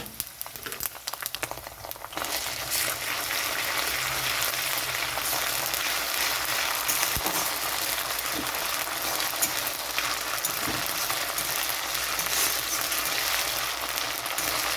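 Onion that is half fried sizzles steadily in a pan with ginger paste, for a Bengali prawn and potato curry; a loud, continuous crackling hiss runs throughout with a brief disturbance near the start.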